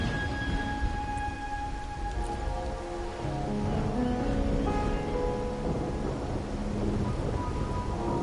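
Steady rain falling in Raguna in the video game Wuthering Waves, a constant dense wash of drops on surfaces with low rumbling underneath and faint tonal game music, even and continuous throughout.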